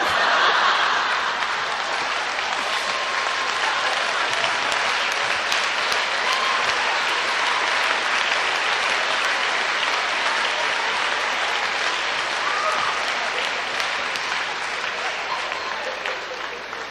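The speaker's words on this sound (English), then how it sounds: "Applaud for that." A graduation crowd at a high school ceremony applauds loudly and continuously, with scattered chuckles mixed in, the clapping holding steady before fading slightly at the end.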